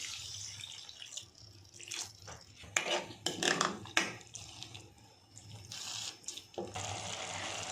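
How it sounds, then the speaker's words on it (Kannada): Water poured into a pan of spiced okra gravy with garam masala and kasuri methi, heard as splashing and gurgling bursts in the middle with utensil clinks and drips around them, close and moderately loud. "ಈಗ ಸ್ವಲ್ಪ ನೀರು ಹಾಕ್ತಾ ಇದ್ದೀನಿ."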